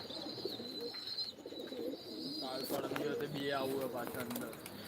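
Young pigeons coo in low, throaty repeated phrases close by, mixed with a few chirps while people talk in the background.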